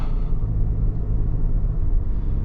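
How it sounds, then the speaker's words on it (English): Steady low engine rumble and road noise from a 2025 Chevrolet Tahoe Premier V8 driving slowly through an industrial park, heard from inside the cabin, continuous and even with no talk. "here we are driving the Tahoe"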